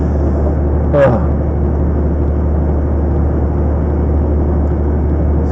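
Heavy 410 hp truck grossing 42,590 kg climbing Haldon hill at full throttle, a steady low droning engine heard from inside, with a brief exclamation near the start.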